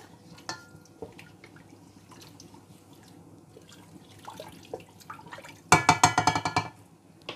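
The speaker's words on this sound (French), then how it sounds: "Je vais remuer un petit peu." Filtered water sloshes in a pot of nettle soup as it is stirred, soft liquid movement building to a louder burst of splashing and clinking near the end, with no talking.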